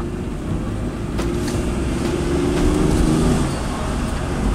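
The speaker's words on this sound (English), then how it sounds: "I'll put it in first gear, and we'll drive. Listen to the engine difference." An automatic car held in first gear rolls down a steep hill, the engine droning loudly and steadily with a slight rise in pitch partway through, engine braking the car.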